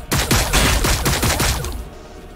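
Rapid bursts of gunfire in the Warhammer 40k Battlesector strategy game, a loud dense volley of overlapping shots lasting about two seconds before tapering off, with no voices.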